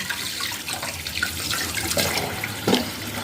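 Tap water runs steadily into a basin while fresh fish are washed, a continuous close splashing flow with small bumps of handling.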